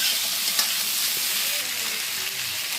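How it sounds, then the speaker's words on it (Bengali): Vegetables stir-fry in a pan with a bright, even hiss of hot oil and occasional stirring scrapes, close and steady, without talk. "নাড়াচাড়া দিয়ে ভেজে নেব এইগুলো।"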